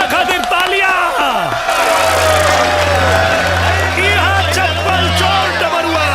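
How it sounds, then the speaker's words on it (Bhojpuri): A village crowd cheering and clapping at a contest, a loud dense mix of shouts and whoops over a low, steady hum. "दवरुआ खातिर तालियां।"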